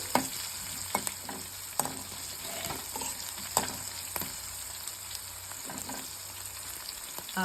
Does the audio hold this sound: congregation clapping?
no